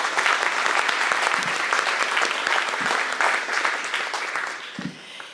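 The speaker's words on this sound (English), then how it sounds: "Let's give them one more round of applause." A room full of guests at a community awards banquet applauds in a sustained, dense burst of clapping that stays strong and even, then thins out slightly at the very end.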